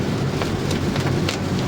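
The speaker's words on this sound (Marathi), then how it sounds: "पूर्ण पाऊस वगैरे ठिकाणी चालू आहे." Heavy rain falls during a trek to Kedarnath in Uttarakhand, heard from a vehicle. It makes a steady, dense hiss with scattered drop taps, and nobody speaks.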